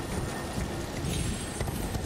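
Horse hooves gallop through Elden Ring terrain at a steady pace, a continuous low, dense thudding under ambient game sound, with no talk over it.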